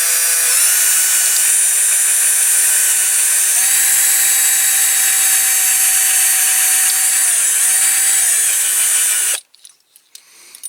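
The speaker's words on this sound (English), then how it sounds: "Okay, so I've got that on the drill, so let's see if we can file that out." Dremel file bit spinning on a drill as it files a Corgi Major Ford car transporter model part, a loud steady whining grind with a slight pitch dip midway, running continuously for about nine seconds before cutting off abruptly.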